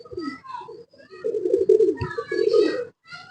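Golden pigeon cooing up close, a few soft throaty coos in short bursts, with someone talking over and between the calls.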